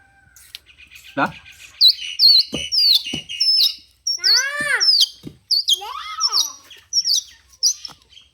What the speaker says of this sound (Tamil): குருவிகளை கத்துது